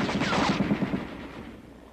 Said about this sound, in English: the machine guns move into position to fire on the enemy